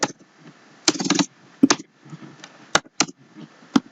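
Someone types PHP code on a computer keyboard, with scattered single keystrokes and short bursts of rapid clicks, close and clear, separated by quiet pauses.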